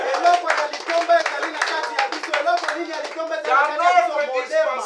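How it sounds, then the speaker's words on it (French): Church congregation clapping in rhythmic bursts, loud and close, with a voice speaking over the claps. "Applaudissez pour vous."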